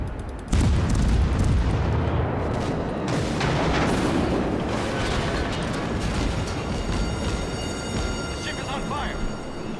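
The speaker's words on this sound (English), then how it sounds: "let's drop some more shells on this guy over here" Naval gun shells fire in a rapid string of deep booms and blasts aboard the Iwaki in World of Warships, a loud, dense, rumbling barrage that fills the clip from start to finish.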